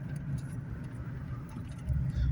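Rumbling engines of nearby road traffic, a steady low drone of vehicles going by with a louder pass swelling at the end.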